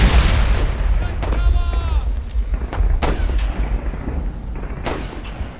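Grenade explosions in the First World War shooter Warfare 1917 go off as deep booms among scattered gunfire, with a voice shouting over the battle noise.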